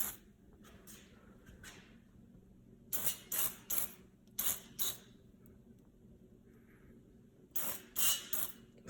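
Short hissing bursts of spray lubricant applied to garage door parts, several quick squirts in two clusters with quiet handling noises between them, close to the listener.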